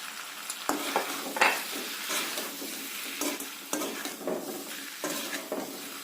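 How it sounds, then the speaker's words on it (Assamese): Pigeon meat dry-frying in a pan without much added oil: constant crackling sizzle broken by repeated scraping strokes of a spoon stirring, close and fairly loud, with no talking. "পাৰৰ মাংসখিনি আজি আমি একেবাৰে শুকান ভাজি কৰিম"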